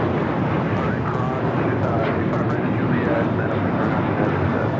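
A United Airlines Boeing 737-900ER takes off at LAX, bound for Las Vegas. Its engines give a dense, continuous roar at close range, with people talking over it.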